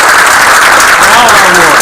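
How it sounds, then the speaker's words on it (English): Dense standing applause fills a council meeting chamber in honor of a Vietnam veteran, loud and steady throughout with faint voices mixed in beneath the clapping. "just all stand up and give Ed a round of applause"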